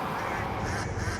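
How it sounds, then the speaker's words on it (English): Haunting duck quack attack from the video game Shadows Over Loathing, a dense, continuous honking quack texture filling the moment at steady loudness with no talk over it. "I'm gonna start by a haunting quack."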